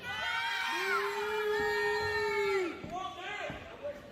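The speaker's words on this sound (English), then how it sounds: "The crowd is really into it" A lively crowd at a wrestling-style cage match event shouts and cheers together, with a loud sustained collective yell and whoops rising and falling, close and continuous throughout.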